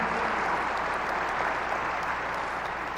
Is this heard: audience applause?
yes